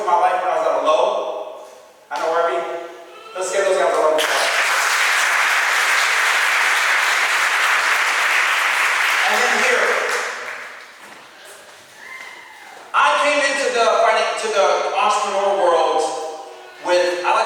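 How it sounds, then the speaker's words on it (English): An audience breaks into loud sustained applause for several seconds between stretches of someone speaking, then fades as the talk resumes. "Let's give those guys a round of applause."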